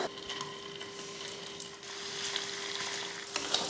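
Small cubes of paneer frying in oil in a kadai, giving a dense, steady crackling sizzle close by that swells slightly partway through, with a few sharp spatters near the end and no voices.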